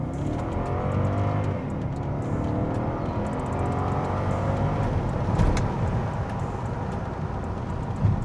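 A V8 car engine revs and accelerates, its rising whine layered over a constant road roar for several seconds.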